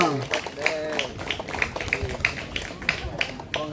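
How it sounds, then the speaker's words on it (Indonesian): Scattered clapping from a crowd at a union branch anniversary celebration, uneven handclaps over voices and background chatter. "Silakan Ketua beri tepuk tangan yang meriah untuk Ketua PUK kita"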